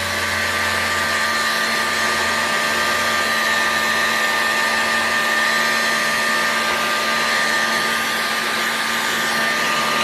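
Heat gun running steadily while heating an engine part near a crankshaft, a loud constant blowing whir with a high motor whine, close and uninterrupted.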